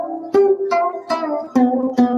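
A fretless acoustic instrument with a goat-skin head is plucked with the pad of a finger, giving five soft, rounded, resonant notes in an even rhythm, each ringing briefly before the next.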